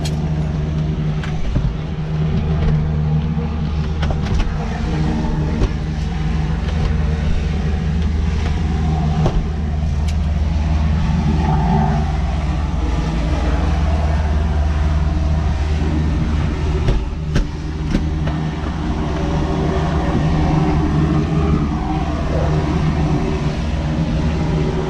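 Bell JetRanger helicopter turbine engine during startup, a loud steady low roar with a constant whine, continuous and close throughout.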